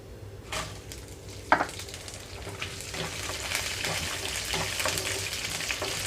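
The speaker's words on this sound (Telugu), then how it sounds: "ఇప్పుడు ఇందులోనే నేను పచ్చిమిరపకాయలు అలాగే ఎండుమిరపకాయలు కూడా వేసి వేయించుకుంటున్నాను" Green and dry red chillies frying in oil with peanuts and urad dal for ivy gourd chutney, a steady close sizzle with occasional stirring scrapes and a sharp clink early on.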